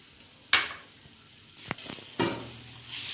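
Garlic paste hits hot oil in a kitchen pan, giving a sharp sizzle burst followed by clattering and stirring, then another sizzle swelling near and moderately loud.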